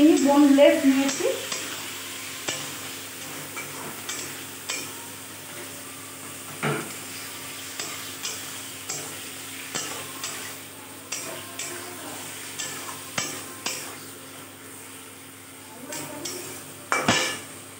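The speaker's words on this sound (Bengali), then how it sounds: "আমার চিকেনটা প্রায় ভাজা ভাজা হয়ে গেছে" Boneless chicken pieces fry in a pan under a soft continuous sizzle, while a utensil stirs in regular strokes roughly every second, scraping and clinking against the metal, fairly quiet and close.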